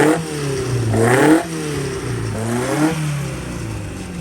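Small 1040 engine revving on a dynamometer, rising and falling through three loud sweeping pulls in close succession, strong and close with no talk over it.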